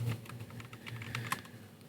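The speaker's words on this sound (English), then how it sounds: "He's Googling it. I can hear him typing." Someone types quickly on a computer keyboard, a faint, steady patter of key clicks with one slightly sharper tap, and no voices.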